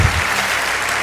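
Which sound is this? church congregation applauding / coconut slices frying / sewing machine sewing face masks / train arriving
church congregation applauding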